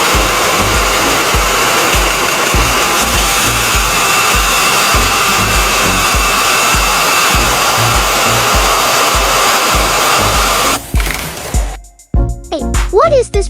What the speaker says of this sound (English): This process uses an industrial lathe machine where the metal cylinder spins at high speed while a cutting tool moves to gradually shave its surface